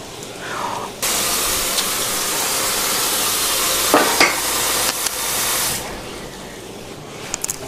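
Buckwheat cutlets with mushrooms frying in a pan, a loud, steady sizzling hiss that kicks in abruptly, carries on for several seconds with a few crackles and surges, then eases off.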